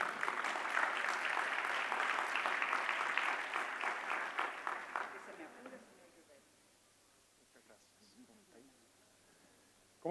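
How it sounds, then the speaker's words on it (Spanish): Audience applause rings out to welcome a speaker at a clean energy and mining decarbonization panel, loud and sustained for about five seconds before thinning to scattered claps and fading into near silence. "Recibamos con un aplauso al señor Juan Carlos Llobet."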